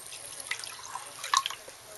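Vinegar poured into a model volcano, faint liquid dribbling and dripping sounds with a brief splashy pour in the middle.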